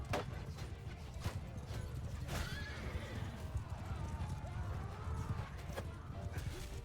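Horse hooves and whinnies in a cavalry battle in the video game Mount & Blade Bannerlord, with galloping clatter and neighing over a dense, continuous din of combat noise.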